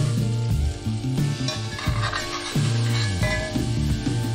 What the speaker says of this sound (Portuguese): E agora é só dourá-los por alguns minutos